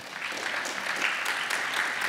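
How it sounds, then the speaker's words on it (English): Audience at a Growing Up NYC event at The New School applauding steadily for a couple of seconds, a dense even patter of clapping from a room full of people. "Give Benita a round of applause."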